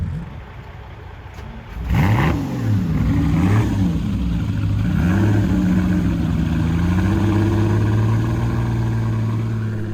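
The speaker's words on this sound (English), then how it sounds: "a 400 Superamerica sounds good" A Ferrari 400 Superamerica at the Cavallino Classic 2022 starts up after a quiet moment, then its engine revs up and down before settling into a loud, steady idle close by.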